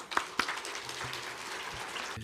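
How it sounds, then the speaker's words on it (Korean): Church congregation clapping to welcome a pastor, a soft, fairly distant wash of many hands, with a few sharper nearby claps at the start and faint murmurs. "우리 박수로 환영하겠습니다"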